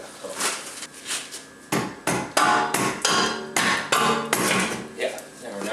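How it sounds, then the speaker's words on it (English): Rubber mallet striking a tie rod on a BMW E46 3-series front suspension during axle shaft replacement, a rapid series of about a dozen sharp, close, loud blows, with a brief voice between. "I just took the rubber mallet and hit the tie rod in"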